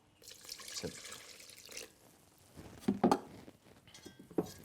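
Water trickles and splashes briefly into a mixing bowl for sourdough, followed by a few clinks and knocks of the bowl or utensil, quiet and close.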